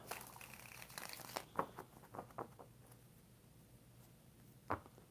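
Tarot cards are shuffled in a few quick papery riffles and flicks, close and fairly quiet, with a pause before a final snap.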